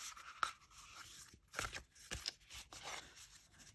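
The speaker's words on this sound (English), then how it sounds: "just try an overhand shuffle." Soft papery overhand shuffling of tarot cards in irregular bursts, quiet and close, with no talking.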